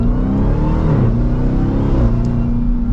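A black 2023 Dodge Durango SRT Hellcat AWD engine revs loud and close, a deep throaty exhaust rumble rising and falling in pitch with throttle changes.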